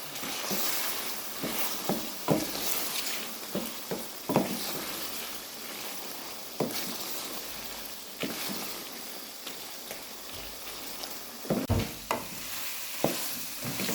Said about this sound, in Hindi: अब हम इनको अच्छी तरह भूनेंगे।